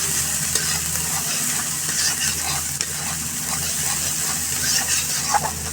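Spices with turmeric frying in a pan for an egg and eggplant curry, a steady sizzle with stirring scrapes throughout, close and continuous, no talking.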